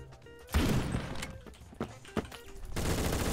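Gunfire from a gun in the Roblox video game: a burst of sharp shots, then scattered single reports and another rapid volley near the end, loud and close with no talk.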